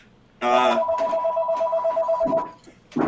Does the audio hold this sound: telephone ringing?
yes